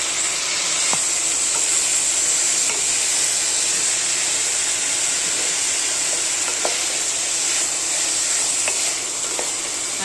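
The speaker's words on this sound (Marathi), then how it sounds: "आणि ह्या भाज्या आहेत ना तेलामध्ये चांगला फ्राय होऊन द्यायचं." Vegetables for masala rice frying in oil, a steady hissing sizzle close by with faint occasional clicks, loud and continuous throughout without speech.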